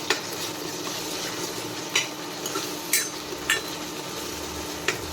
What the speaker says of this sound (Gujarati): હવે ઓલમોસ્ટ ડુંગળી ટમેટું તળી ગયું છે